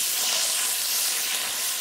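Onions, shallots, carrots, celery and leek sizzle as they brown in a Dutch oven, a steady close-up hiss that holds evenly throughout with no voices.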